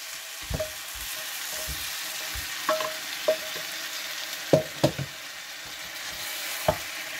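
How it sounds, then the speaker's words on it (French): Calf tails and shrimp in a fricassee stirred in a pan, a low sizzle under scattered scrapes and knocks of a spoon against the pan, alone and fairly close. "Je remue le tout."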